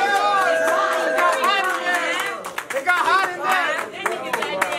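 Crowd at a rap battle cheering, shouting and clapping, an excited mix of yells and scattered claps with sharp bursts, while voices shout over the noise.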